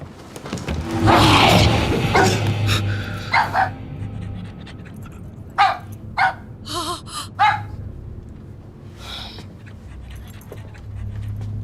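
A dog in the Hindi dubbed movie Howl pants heavily at first, then lets out a handful of short, sharp barks in quick bursts, close and fairly loud, with quiet pauses between them.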